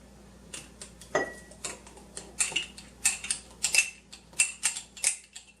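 Avocado spread being stirred in a larger container, a series of quiet, irregular clicking and scraping taps from the utensil against the sides, growing busier toward the end.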